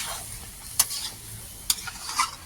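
Meat cooking down in oil in a pan, a soft low sizzle with a few sharp clinks and scrapes as it is stirred.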